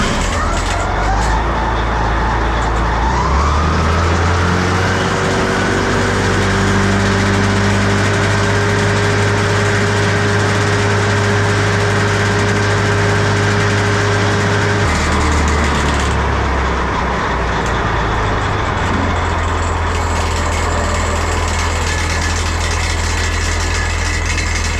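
Tractor running a PTO-driven topper at 1000 speed, a loud steady engine drone with rising pitch as it spools up, a sustained mechanical whine, then a dip and recovery in revs partway through.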